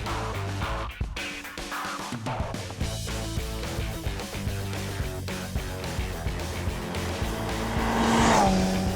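An original Honda Fireblade motorcycle being ridden, its engine droning steadily with shifting pitch and a louder surge near the end, with no talk over it.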